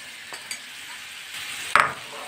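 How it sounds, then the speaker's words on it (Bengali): Marinated mushrooms are stirred in butter in a pan with a soft, steady sizzle. Light scraping and a sharp clink of a utensil against the pan come near the end, with no speech. "এভাবে একটু শুধু নেড়ে নেব"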